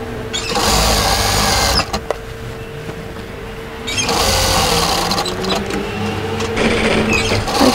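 Sewing machine stitching the hem of a raglan hoodie, running loud and steady in two long bursts with a brief pause between, close up.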